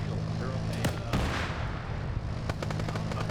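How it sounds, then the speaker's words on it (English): Cannon fire in a military video game, heavy booming blasts over a sustained low engine rumble, loud, with voices over a radio talking. "So that's a cannon."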